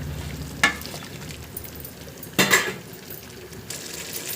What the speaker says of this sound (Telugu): ఆయిల్ డివైడ్ అయ్యేంత వరకు బాగా ఫ్రై అవ్వనివ్వండి